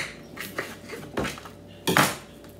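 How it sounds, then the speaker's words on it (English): A knife cuts cucumber on a board for a pantry summer salad, giving a few scattered clacks and taps close by, with a sharper double strike near the end and no talking. "I'm going to cut up some cucumber"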